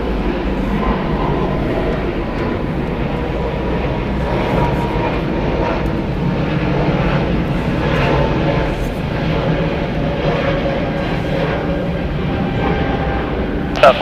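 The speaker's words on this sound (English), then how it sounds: "Spirit Airlines flight 963 going to Houston. It's an Airbus A320 Neo." A two-year-old Spirit Airlines Airbus A320neo at Atlanta Hartsfield-Jackson, a loud, steady broadband engine roar that holds evenly throughout.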